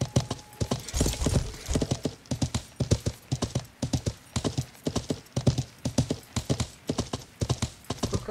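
Rapid, evenly spaced hoof clip-clops of a galloping horse in the medieval game Life is Feudal, loud and close, with a faint neigh mixed in.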